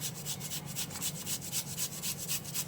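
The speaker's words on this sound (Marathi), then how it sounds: "इथे मी एक बटाटा घेतलेला आहे आणि तो आपण किसून घेऊया" A boiled potato is grated by hand for a fasting meal, giving a steady, close rasping scrape in quick, regular strokes that carry on without pause throughout.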